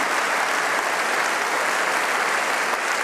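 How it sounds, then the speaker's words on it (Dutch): A large gala crowd at the Sportgala Fryslân 2014 applauds the winner of a lifetime achievement prize, a loud, dense, even wash of clapping with no voices. "Maar eerst wil ik nog een David applaus voor de winnaar van de Oeuvreprijs"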